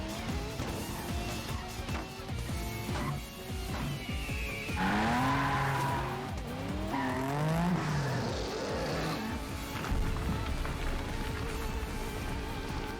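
Cars in a video game whine and skid, their engine and tyre tones sweeping up and down over steady hissing rain-like noise, with no talking.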